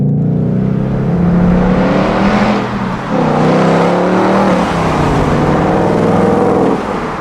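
A 2018 Ford Mustang GT with its 5.0 V8 pulls hard in track mode, engine note climbing through the revs, a brief dip near three seconds as it shifts, then surging loudly again close to the microphone.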